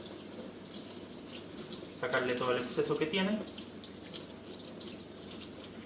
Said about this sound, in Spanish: Lo que tenemos que hacer ahora es sacar agua, no tan fuerte, simplemente